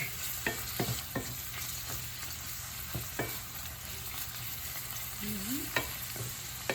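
Frozen bitter gourd sizzles quietly in a hot pan while a utensil stirs and scrapes it in scattered clicks over the steady frying hiss.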